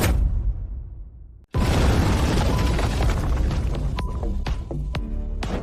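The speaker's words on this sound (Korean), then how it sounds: "조금 더 넣었다고 폭발 위력이 원형급 일격과 맞먹다니 연단이 이렇게 위험할 줄이야" A sudden loud, broadband blast from an alchemy furnace blowing up during pill refining, following a quieter rumbling lead-in, then a sustained roaring burst with crackling debris that fades gradually.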